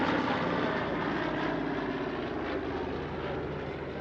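A DC-3 and Beech 18 piston aircraft fly past at an airshow at Paris-Villaroche, a steady broad engine drone holding loud and even throughout with no voices.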